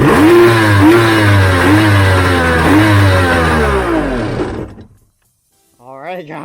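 A jet ski's two-stroke engine running on a 2-stroke oil mix, loud and buzzy with repeated rising revs for several seconds before cutting out abruptly, followed by a brief spluttering restart.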